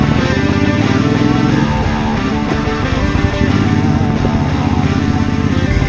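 Triumph Speedmaster motorcycle with an 865 cc parallel twin engine, running as a loud, steady, close-up drone that holds for the whole stretch with no talk over it.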